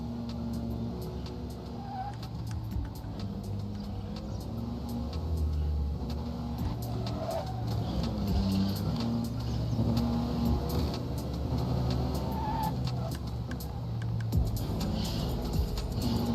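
A car driving in the video game Neverness To Everness, with a steady low engine drone and road rumble that continues throughout, slight surges in revving and faint interface blips layered over it, and no talking.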